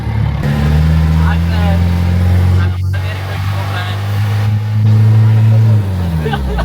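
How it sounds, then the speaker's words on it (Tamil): A 4x4 strains hard off-road in the desert, its engine a loud, sustained low drone that swells and dips as it climbs at speed, with people talking over it throughout. "முக்குதுறான் வண்டி"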